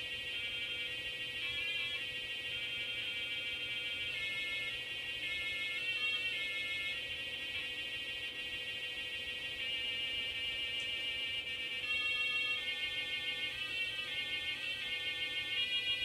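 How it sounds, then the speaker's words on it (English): Tinny square-wave music plays from the PC speaker of an IBM PS/2 Model 30 running Windows 3.0 Multimedia Edition, a steady beeping melody with shifting notes that continues throughout with no talking. "it's going to use the PC speaker"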